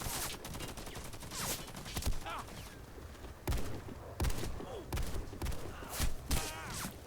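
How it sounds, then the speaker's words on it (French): Automatic pistol fire in the Warface online shooter game, with sharp shots in short bursts and single cracks mixed with other in-game combat noise at moderate loudness. "là c'est fun à jouer avec ce pistolet automatique"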